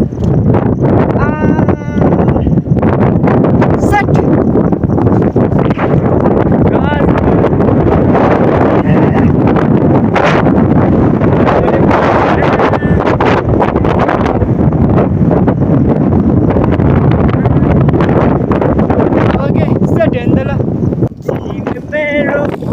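Strong outdoor wind buffets the microphone without pause, a loud low rumble that covers everything, with a voice faintly audible beneath it.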